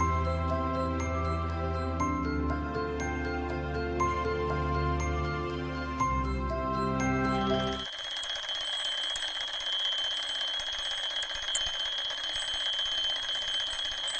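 An alarm clock rings steadily, first a lower tonal pattern, then a bright, shrill continuous ringing that grows louder and keeps going.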